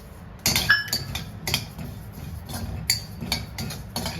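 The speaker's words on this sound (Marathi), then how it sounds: "त्याच्यात मी जिरं भाजणार आहे।" Cumin seeds being dry-roasted in a pan while making goda masala, heard as repeated light clinks and scrapes of a utensil against the pan at an irregular rhythm, close by, with no talk.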